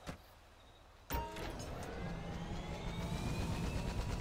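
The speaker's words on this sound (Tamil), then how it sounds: "பிராங்க்லினும் மைக்கேலும் ஹெலிகாப்டர்ல இருக்கிறாங்க" A helicopter in the video game GTA 5, heard as a steady whirring rotor and engine drone that starts abruptly after a sharp thump and holds at a moderate, even level with a slowly rising tone.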